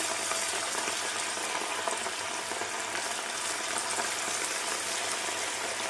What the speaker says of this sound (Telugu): చికెన్ వేపుకున్నాం ఆల్రెడీ నేను ఒక ఆయిల్ వేసాను అనమాట ఇది మీకు చూపించడం కోసం మళ్ళీ వేసి చూపిస్తున్నాను